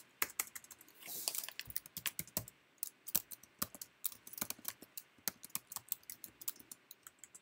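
Someone types on a computer keyboard in a quiet room, a fast, irregular stream of crisp key clicks with brief pauses, close and fairly soft.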